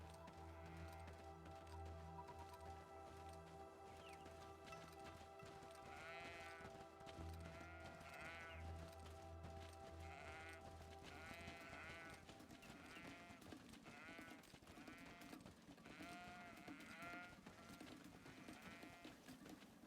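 Goats bleat over and over in a video game, the wavering cries arriving in clusters over a steady backdrop of game music and ambience, with no talking.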